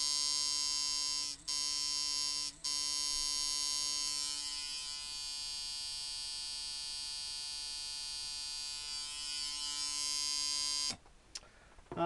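A rebuilt 2005 Micky Sharpz T-Dial coil tattoo machine with Wesley Verity coils runs with a steady, loud electric buzz, cut by two brief stops early on and switched off near the end.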